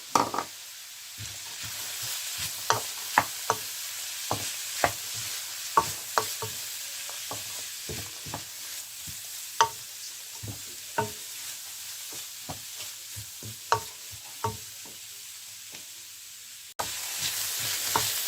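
Chopped white cabbage stir-frying in a pan for paneer pilau: a steady, soft sizzle under irregular sharp knocks and scrapes of a spatula against the pan, close and fairly quiet, with no talking.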